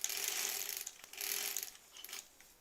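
A sewing machine stitches through a thick nested quilt seam in close, rapid mechanical chattering bursts, pausing briefly midway.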